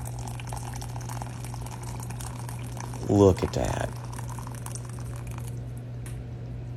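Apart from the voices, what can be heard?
boiling water poured from electric kettle onto gelatin dessert mix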